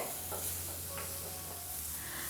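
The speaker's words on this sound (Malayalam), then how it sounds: "വളരെ ലൈറ്റായിട്ട് മാത്രം ഒന്ന് വഴറ്റി കൊടുക്കാം" Tomato paste lightly sautéed in a pan for a Kerala prawn roast, giving a steady soft sizzle with occasional stirring scrapes, close and alone without voices.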